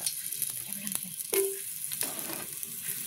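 Ginger hits hot cooking oil and sizzles steadily with a soft crackle, broken by a few sharp clicks and knocks from the pan, fairly close and with no voices.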